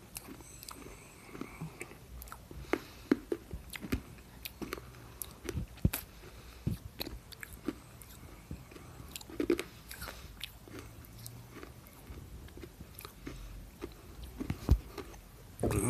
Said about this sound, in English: Sorry, you don't really want to hear me crunching.